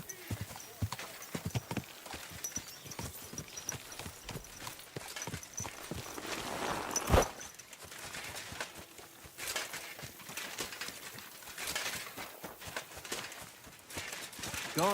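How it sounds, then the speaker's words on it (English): Horse hooves clip-clopping in the medieval open-world game Kingdom Come Deliverance 2, a steady rhythmic trot of many close, distinct hoof strikes over ambient background, with a faint whinny and some voices talking. "Easy, good horse."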